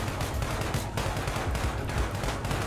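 Rapid, dense gunfire erupts in a video game police chase, with bursts of shots following one another in quick succession and playing loud and continuous.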